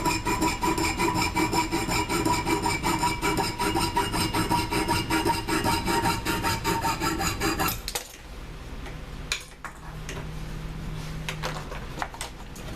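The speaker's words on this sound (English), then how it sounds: "I like to use my GRS tool to hold it in place while I cut some of these heavier pieces" A jeweller's saw cuts through a heavy piece of silver held in a GRS holding tool for a ring, a fast, close, rhythmic rasping strokes for about eight seconds, then quieter handling and scraping.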